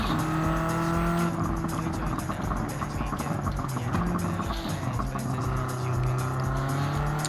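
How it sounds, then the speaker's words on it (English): Race car in Gran Turismo 7, a loud continuous engine drone with rising and falling pitch as it shifts, with tyre noise mixed in, sustained throughout. "you can hear the difference in the sound of this car as I was tuning it up piece by piece"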